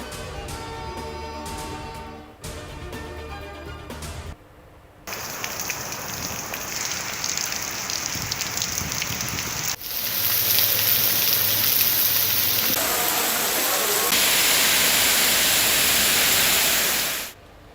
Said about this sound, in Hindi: पंजाब, खैबर पख्तूनख्वा, आज़ाद कश्मीर के कई इलाकों में बादल बरस पड़े।